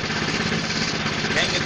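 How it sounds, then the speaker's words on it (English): A junkyard Honda engine runs steadily on the battered Eager-1 snowblower, a loud, continuous close-up drone with a rough, even chug. "The world's crappiest snowblower."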